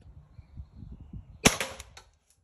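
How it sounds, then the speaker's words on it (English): Single sharp crack of an Umarex HDR50 air pistol firing through a paper target, loud and close, followed by a brief fading rattle, with low background rumble before it. "This is the one I shot at just right now, and it went right through the target"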